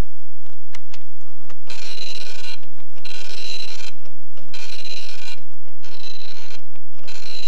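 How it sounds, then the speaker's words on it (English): A vintage computer printer working with IBM EasyWriter prints a Christmas Carol document, loud and close, giving repeated rasping, buzzing passes of the print head in steady bursts with short pauses between lines. "And now press F2 to start printing Christmas Carol."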